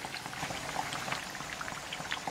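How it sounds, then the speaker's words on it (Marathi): Mixed dal vadas deep-frying in oil over a low flame, a soft, even bubbling and crackle with scattered tiny pops, steady and close. "आता एक 5 मिनटं आणखीन आपण ह्याला मंद आचेवरती छान याचा रंग बदलेपर्यंत तळून घेणार आहोत."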